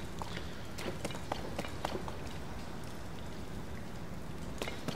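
Rain falling in the video game The Legend of Zelda: Tears of the Kingdom, a steady soft patter with scattered sharper drips, fairly quiet.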